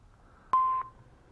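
A phone gives a single clean electronic beep, a short steady tone lasting about a third of a second, alone against quiet background noise.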